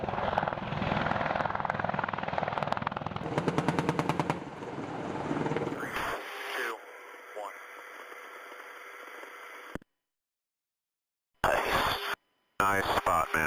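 An AH-64 Apache attack helicopter flying at low altitude, its rotor chop and turbine whine loud and close with a rapid pulsing beat, then steady tonal engine noise before cutting off abruptly; talk mixes in early on.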